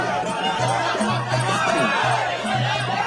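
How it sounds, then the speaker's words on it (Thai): A crowd cheers and chatters in front of a festival stage at a Thai kathin merit-making celebration, a steady roar of voices with music tones and a speaking voice mixed through it. "เสียงเชียร์ดังเลยทีเดียวครับ"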